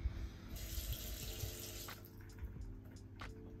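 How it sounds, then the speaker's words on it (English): A tap runs water steadily into a flat-looking sink in an overwater villa bathroom at Soneva Jani in the Maldives, a soft, continuous close splash and hiss. "And the water just goes right down."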